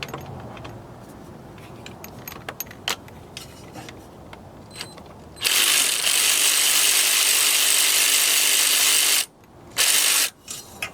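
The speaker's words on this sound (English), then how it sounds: "I'm gonna use the power ratchet because I don't want to keep turning" A power ratchet turns bolts on a 2.0 TFSI Audi engine during an overhaul. Light mechanical clicks and taps come first, then a loud, continuous buzzing whir runs about four seconds, stops, and returns in a short second burst.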